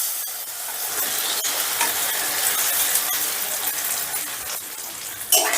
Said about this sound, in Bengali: এবারে ওই তেলেই মেখে রাখা সয়াবিনটা ভেজে নিচ্ছি